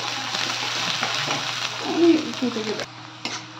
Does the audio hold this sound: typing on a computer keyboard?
no